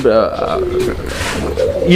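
Soft, low coos of Netherlands-breed fancy pigeons roll on continuously, overlapping one another at close range with a steady murmuring rhythm.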